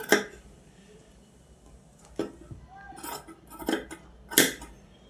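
Scissors trim excess fabric from a sleeve during sewing, giving a handful of sharp, separate metallic snips spaced a second or so apart against a quiet background.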